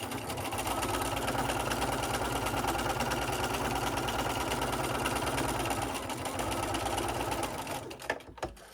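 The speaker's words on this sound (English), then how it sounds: "then I'm gonna sew them all down again" A sewing machine stitches fabric down in one continuous, fast, even whir up close, stopping abruptly near the end with a couple of faint clicks.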